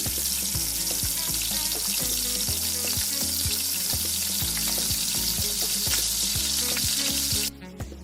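Mushrooms cooking with cream in a pan for a cream sauce, a loud, dense sizzle with steady crackling and frequent stirring clicks, close and continuous until it suddenly drops at the end.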